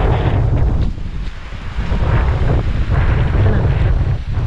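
Strong wind roars and buffets the microphone continuously, with a broad rushing wash of heavy rain mixed in, loud and close.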